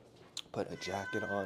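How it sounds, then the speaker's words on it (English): A house cat meows close by, a short high call followed by voiced, tonal meow-like sounds over about a second, with a person speaking nearby. "That's my cat."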